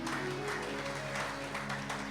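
Church congregation applauding during a worship service, steady crowd clapping throughout with a sustained musical drone underneath.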